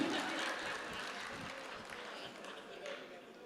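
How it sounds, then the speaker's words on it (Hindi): An audience at an All India Mushaira poetry gathering in Amravati, Maharashtra applauds a poet: steady, dense clapping from a crowd, heard faint and distant throughout without a break. "भाई जोरदार तालियां होनी चाहिए कपिल जैन साहब के लिए।"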